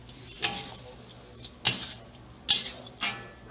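Shrimp tossed back into pad thai in a hot pan, a soft background sizzle broken by four sharp clanks and scrapes of a utensil, near and with no talking.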